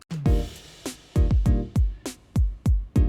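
Bright, bell-like 1980s-style FM synth notes with sharp attacks and quick decays, played in an uneven rhythmic pattern, alone and fairly clean.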